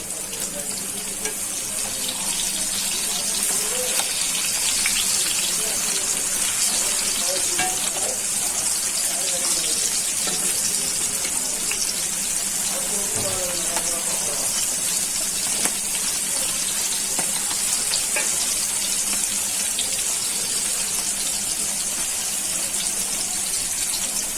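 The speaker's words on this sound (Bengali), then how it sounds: "এখন ভাজা হয়ে যাক ভালো করে। কাঁকরোলগুলো আগে থেকে সিদ্ধ করে নিয়েছি বিচিগুলো ফেলে, যাতে ভালো করে ভাজা হয়।" Slices of kakrol (teasel gourd), boiled and seeded beforehand, sizzling steadily in hot oil in a pan, a continuous close frying hiss with occasional faint stirring and scraping, no talk.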